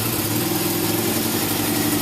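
A roughly 50-year-old motorcycle engine idles in a steady, even rumble with a constant buzzing vibration and no change in speed.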